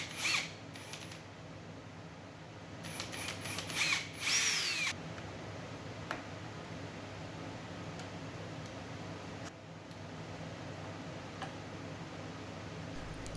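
A power drill boring a hinge cup hole in a cabinet door whirs in a few short bursts early on, followed by quieter mechanical ticks and clicks against a low background hum.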